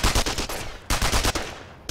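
Rapid automatic gunfire from The Royal Marines Commando video game hammers out in loud, close bursts, with a brief pause before a second volley, and no one speaking over it.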